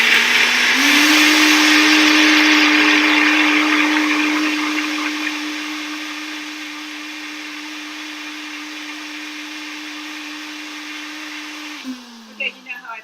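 Kitchen blender whirring through a smoothie, a loud steady motor hum that spins up at the start, runs evenly, softens partway as the blend smooths out, then winds down near the end.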